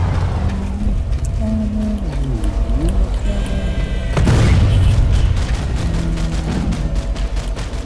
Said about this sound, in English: I don't know where these shots are coming from, but it's annoying